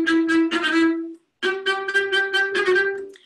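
The wood sprites' music from Dvořák's opera Rusalka sounds as a bright, lilting melody over a steady sustained pitch, two short phrases with a tiny gap between them, clear and fairly close.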